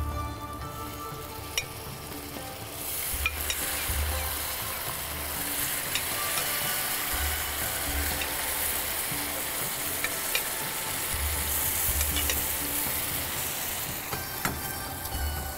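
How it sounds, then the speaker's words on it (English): Chicken and capsicum for mirchon wali murghi sizzle loudly in a pan over full heat as broth is added, a steady dense frying hiss with occasional clicks and stirring scrapes, close and continuous without speech. "increase the heat to full, and let's start adding the broth"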